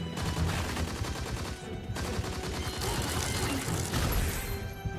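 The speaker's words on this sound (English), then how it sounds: "Oh jeez, I was a little too close to that explosion." Dense game combat in Monsters and Monocles, with rapid gunfire and a blast-like burst amid continuous loud action, a dip near the two-second mark, then heavy noise again.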